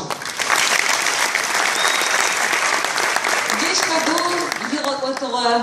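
Loud audience applause fills a concert hall at a Circassian music performance in Istanbul, steady dense clapping throughout, with a voice starting to speak over it near the end.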